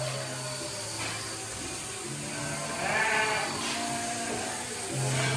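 Sheep bleat repeatedly during shearing, several drawn-out calls spaced over a few seconds above a steady electric clipper hum in a shed.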